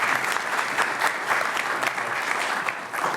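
An audience claps at a Dubois County hub19 showcase event: dense, steady applause from many hands, close and fairly loud, continuing evenly throughout with no voices over it.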